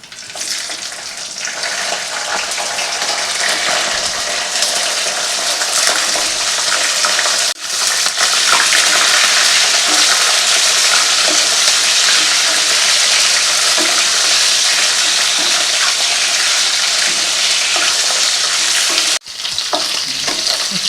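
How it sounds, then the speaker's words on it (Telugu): Sliced okra fries in oil in a kadai with a loud, continuous, hissing sizzle that holds steady throughout, interrupted by two brief dips, with no voices. "ఇప్పుడు బెండకాయలు ఉన్నాయి కదా చీరేసినవి ఇవి వేసేద్దాం"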